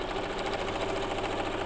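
A sewing machine sews a short seam on a quilt block in a fast, even, continuous whir and patter, close and steady the whole time.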